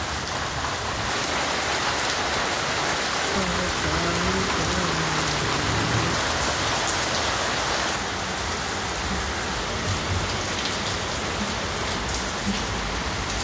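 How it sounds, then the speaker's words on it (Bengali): Steady rain pours outdoors in Monpura, a dense continuous hiss of drops on surfaces, loud and close throughout with no pauses. "বৃষ্টি হইতেছে আজকে আমাদের এখানে"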